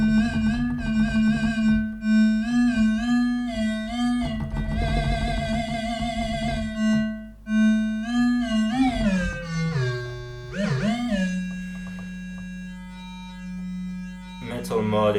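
An Arturia MiniBrute 2 synthesizer plays a triangle wave through its metal mod, giving a buzzy, metallic tone. Held notes bend and sweep across about fifteen seconds, close and loud with no talking.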